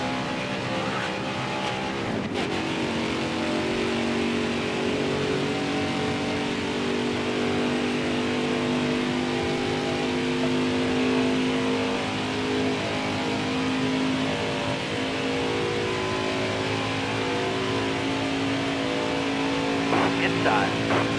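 Stock-car engines from the NASCAR Heat 5 racing game drone at high revs, layered tones sustained as the cars run in a pack, with a brief sharper shift near the start and a few clicks near the end.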